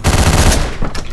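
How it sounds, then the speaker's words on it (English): A machine gun firing in the top-down game Hotline Miami: one loud, close, rapid burst of rattling shots lasting about a second, alone and without talk. "Then a submachine or machine gun or whatever it is."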